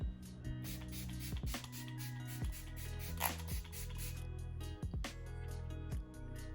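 Quick bursts of setting spray hissing close by onto a face over powder foundation, several short puffs in an uneven rhythm with small handling clicks between them.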